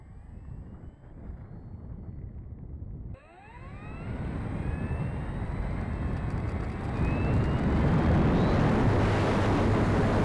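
A Flightline 1600mm Spitfire RC model plane flies into the wind, starting after a short, faint passage; then its engine drones loudly and rising whines sweep over a constant roar of wind noise.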